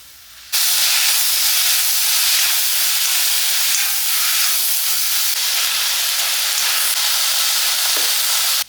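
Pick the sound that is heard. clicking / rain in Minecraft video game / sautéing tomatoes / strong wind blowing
sautéing tomatoes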